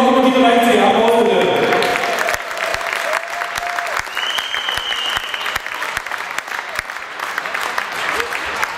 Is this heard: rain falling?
no